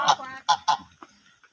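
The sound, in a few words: geese honking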